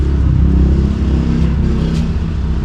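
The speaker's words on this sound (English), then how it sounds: "I know the sound of that motorcycle now by heart." A loud, close motor engine rumbles and revs for a few seconds, a deep throaty roar that stays steady throughout.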